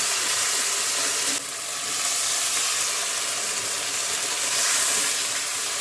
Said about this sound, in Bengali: একটু হলুদ অল্প দিয়ে এবার কষাবো